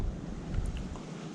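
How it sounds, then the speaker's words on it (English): Wind blowing outdoors during a muzzleloader deer hunt, a steady low gusty rumble buffeting the microphone with no voices. "I know you can hear the wind"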